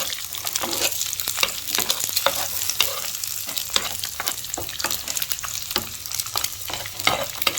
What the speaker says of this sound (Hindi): इसको हल्का सा करें आप फ्राई, बहुत ज़्यादा नहीं पकाना इसको